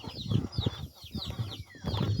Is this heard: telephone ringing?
no